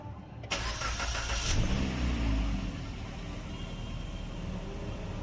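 A Maruti Suzuki car with an automated manual gearbox cranks and fires up, the engine catching with a short rev before settling into a steady, even idle, close and loud with no talk over it.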